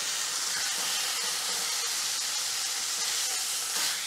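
Beef searing in a hot pan for bao buns, a dense continuous sizzle and hiss that holds steady and loud from start to finish, with no talking.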